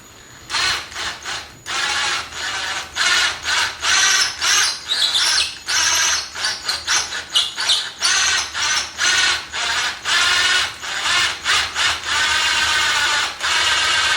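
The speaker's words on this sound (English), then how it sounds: "So once you have your holes drilled" A power drill bores holes for cabinet hardware in short, repeated bursts, loud and close, with brief pauses between runs of whirring and grinding.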